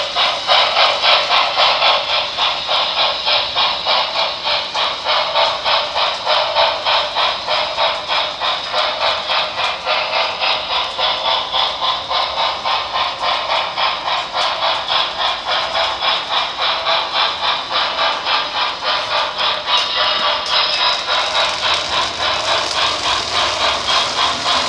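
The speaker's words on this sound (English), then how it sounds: "And there's the Dreyfus Hudson pulling onto our rear track. It's definitely an iconic engine." A Dreyfus Hudson model locomotive runs on an HO-style layout track, giving a steady, close, rapid mechanical rattle and motor whir that continues evenly, with the clicking rhythm lasting the whole time.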